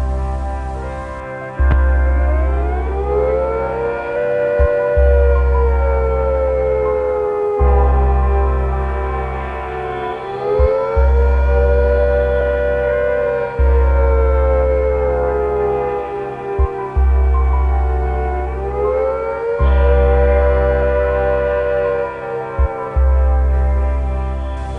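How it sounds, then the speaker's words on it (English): A civil defence attack warning siren sounding a wailing tone that rises and falls in long repeated cycles, loud and steady over a low pulsing hum, with no voices. "If attack is imminent, you will hear the attack sound like this."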